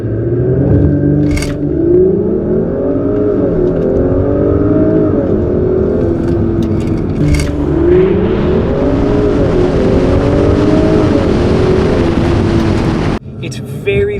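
A car accelerating hard on a test run after a transmission mount upgrade, engine rising in pitch through several gear shifts, loud and close from inside the cabin, ending abruptly.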